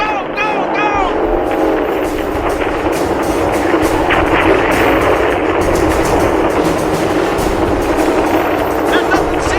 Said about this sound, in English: All the gunnery positions have opened fire!